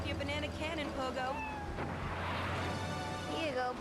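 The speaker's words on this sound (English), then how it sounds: "Rescue a cat out of that tree with your banana cannon, Pogo." A cat meows repeatedly in a Pogo the Monkey advert inside Grand Theft Auto III, wavering cries under steady background sound while a voice talks over it.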